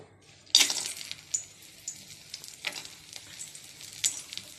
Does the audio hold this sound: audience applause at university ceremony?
no